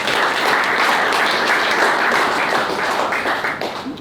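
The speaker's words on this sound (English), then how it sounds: "So a bit of a round of applause for them too first." Audience at a Brisbane property panel event applauds the organisers, a dense, steady wash of many hands clapping close by for about four seconds, tapering slightly toward the end.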